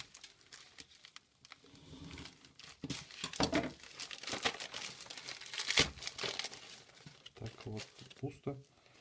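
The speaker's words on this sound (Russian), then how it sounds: "Открывать будем ее вот таким самурайским тесаком." A parcel holding an electronic cigarette is cut open with a large samurai-style knife, bringing irregular crinkling, tearing and rustling of packaging at moderate loudness, with brief rhythmic scraping near the end.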